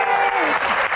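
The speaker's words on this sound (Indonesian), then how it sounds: "Seru ya, tepuk tangan lagi dong." Audience at a stand-up comedy Q&A claps in a dense burst that lasts the whole moment, loud and close, with slight dips in intensity but no talking over it.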